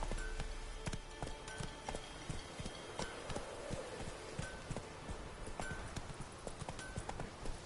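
Roach, the horse in The Witcher 3, trots with steady, repeated hoof clip-clops at close range, a brisk even rhythm over a faint game ambience.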